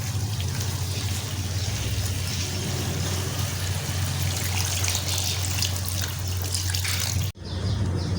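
Water is poured into a pot of fried kofta and potatoes, giving a steady close trickling and splashing over a low hum. It stops with a brief cut near the end.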